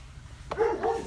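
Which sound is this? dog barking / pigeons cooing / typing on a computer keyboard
dog barking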